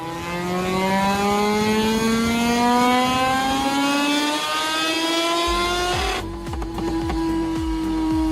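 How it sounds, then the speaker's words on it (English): A stripped-down racing motorcycle with a rotary engine screams on a dynamometer stand, its pitch climbing steadily toward the red zone, then breaking into a rough, rattling roar near the end; loud and close throughout. "a stripped-down bike on a dynamometer stand, screaming its way into the red zone"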